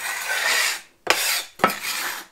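A wooden cutting board being refinished is scraped in three long rasping strokes, the first steady and continuous, the next two starting with sharp attacks after short pauses, close and fairly loud.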